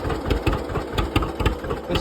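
John Deere 46A slant dash tractor engine running close by, a steady rhythmic chug with regular low pulses and no voices over it.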